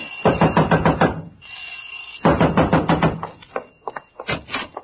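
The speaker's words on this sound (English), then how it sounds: "I heard someone screaming and pounding on your garage door." Radio drama sound effect of a fist pounding on a garage door: three loud bursts of rapid, heavy knocking, the last one shorter, separated by brief pauses.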